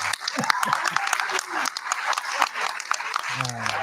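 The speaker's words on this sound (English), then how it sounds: "Let's give Flipboard a round of applause" Audience applause for Flipboard in a packed room, steady dense clapping throughout with a voice talking over it.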